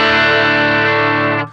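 An electric guitar rings out through a Fender-style amp model on a NUX MG-30 multi-effects unit, one sustained chord held loud and steady before being cut off.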